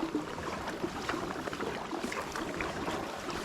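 A Crescent Primo kayak paddled through open water, with a continuous close swishing and splashing of the hull and blade and no voices.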